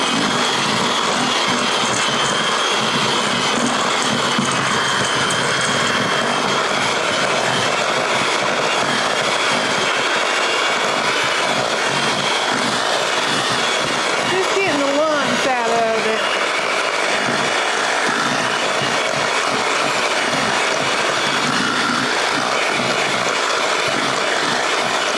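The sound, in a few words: electric mixer mixing honey cinnamon butter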